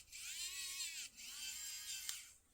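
A SEQURE ES666 smart electric screwdriver runs full on in its torque-limited mode with a thin, high motor whine. Two steady runs are split by a brief dip, ending with a small click, close and fairly quiet.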